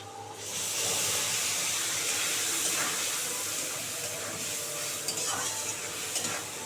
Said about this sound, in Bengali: দু মিনিট ধরে মশলাটা ভালো করে কষাবো